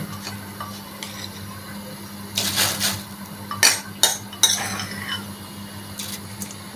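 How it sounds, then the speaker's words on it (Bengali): Washed mung dal tipped into hot water in a wok, giving a few brief splashes and clinks of a utensil against the pan over a low steady background hum, with no talking. "মুগ ডালটা সিদ্ধ করার জন্য আমি কড়াইতে জল দিয়ে দিয়েছি এবং জলটা বেশ গরম হয়েছে আমি মুগ ডালটা ভালোভাবে ধুয়ে নিয়েছি এবার ডালটা দিয়ে দিচ্ছি"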